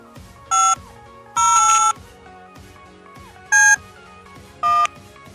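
Four phone keypad dialing beeps in a Hindi mobile gangster game, irregularly spaced, one held longer than the others, loud and clear above soft background game music.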